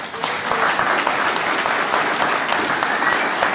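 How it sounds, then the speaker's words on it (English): Audience applause fills the room, a steady, loud wash of many hands clapping at once with no pause. "round of applause for us all"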